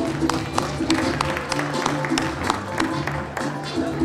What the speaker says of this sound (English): Big round of applause for our fourth graders.